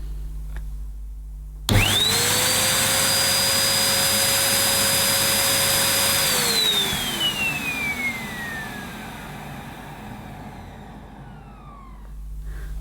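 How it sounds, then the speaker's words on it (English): A small pink Sanyo SC-35A vacuum cleaner switches on abruptly and runs at a steady loud whine, holding constant for several seconds before its pitch slides down as the motor slows, with no talk over it. "Let's see what this pink vacuum measures on the old suction"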